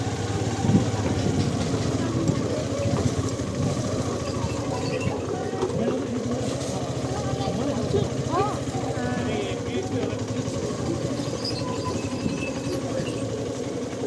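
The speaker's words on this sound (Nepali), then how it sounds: "तर हामी हिँड्नको लागि बाइकमा ड्राइभ गरिरहेको छ।" A motorbike engine runs steadily throughout while riding, a continuous mid-pitched drone with no breaks, and background voices murmur faintly underneath.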